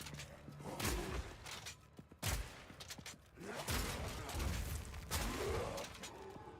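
Bursts of shotgun fire from the video game Path of Exile 2, several loud booming blasts spaced a second or so apart, with crackling impacts and game effects filling the gaps between shots.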